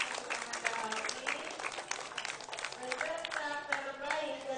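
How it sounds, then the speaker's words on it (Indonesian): Sustained applause from a crowd fills the space as a third-place best participant is honoured at a Monday school flag ceremony in Indonesia. Dense, steady clapping runs throughout with scattered voices and faint tonal sounds mixed in. "tepuk tangan untuk Ananda Halki"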